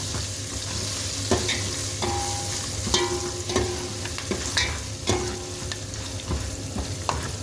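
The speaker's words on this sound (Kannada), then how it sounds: "ಒಣಮೆಣ್ಸಿನ್ಕಾಯಿ ಒಂದು ಸ್ವಲ್ಪ ಫ್ರೈ ಆದಂಗೆ ಆಗಬೇಕು" Dried Byadagi red chillies and curry leaves frying in hot tempering oil, a steady loud sizzle with repeated spoon stirs and scrapes against the pan.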